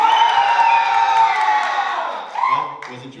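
Children in an audience cheer and shout loudly together at a live show, a sustained whooping roar that gradually fades before a few final shouts.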